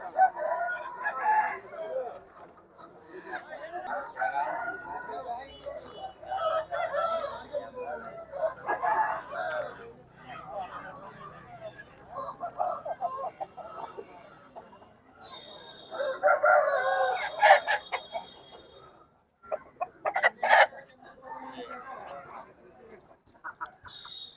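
Country chickens at a Saturday chicken market cluck and crow on and off for the whole stretch, some calls near and others farther off, mixed with people talking and haggling.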